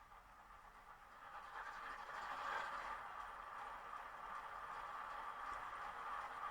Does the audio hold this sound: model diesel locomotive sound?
yes